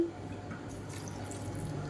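A little water is poured into a spice grinder jar holding chillies and other masala ingredients for a Chettinad mutton kurma. It makes a soft, steady trickle over a low background hiss.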